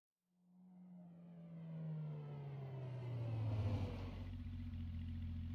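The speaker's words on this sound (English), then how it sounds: "Suddenly, the sound of a car engine broke the silence. It continued to grow louder, then came to a stop." A car engine from a video game fading in from silence and growing louder as it approaches, a low rumbling drone with rising revs that settles into a steady idle at the end.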